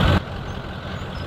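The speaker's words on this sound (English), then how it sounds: "That truck is very loud." A truck engine in the Farming Simulator 17 video game, heard at a farm yard near a field tanker, gives a short loud low rumble that drops to a steadier, quieter drone.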